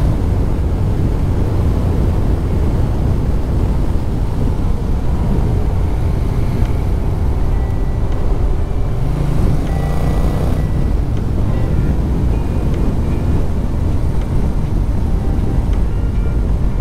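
A Yamaha XSR 700 motorcycle on Pirelli Scorpion Rally STR tires is ridden at speed and recorded from inside the helmet. It produces a loud, constant rush of wind and road roar with the engine drone buried underneath, and no voices.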